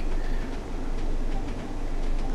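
Train exterior in the Train Sim World 2 video game: a steady, dense rolling rumble with a faint clatter throughout, with no speech.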